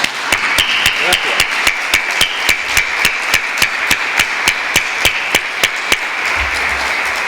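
At a Semana Negra book presentation, sharp regular knocks like a hammer strike about every quarter second over a steady wash. The knocks stand out clearly and the wash continues underneath throughout, so the applause is hard to pick out.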